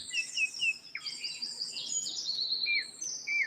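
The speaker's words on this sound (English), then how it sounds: "let's enjoy the birds, the beautiful sounds," Outdoor birds sing with bright repeated chirps and trills, steady and fairly clear over a soft background hum, with no talking.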